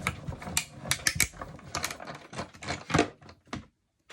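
A big die is cranked through a Stampin' Up! die-cutting and embossing machine with a close, uneven run of clicking, ratcheting mechanical knocks that stop abruptly near the end, with no talking.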